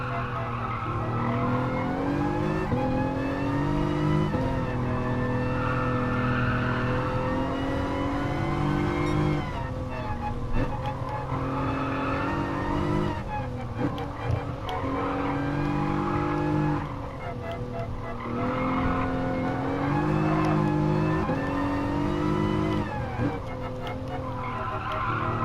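A race car with six gears in a sim racing video game holds a loud, close engine drone that climbs and drops through repeated gear changes, with tyres squealing and skidding throughout.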